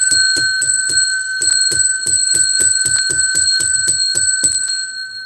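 A handheld bell rings in rapid, loud, regular strokes, each clear metallic ding overlapping the sustained ring of the last, with roughly fifteen hits close to the microphone.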